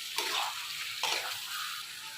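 Eggs frying in a spiced masala while being stirred: a continuous sizzle with two distinct stirring swishes, close and fairly loud, no talking.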